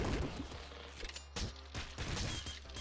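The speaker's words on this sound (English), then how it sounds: "Is that a Kraken machine gun?" Rapid automatic fire from a Kraken machine gun in the top-down shooter Nuclear Throne, a dense rattling stream of shots with game sound effects layered over it, steady and loud for the whole stretch.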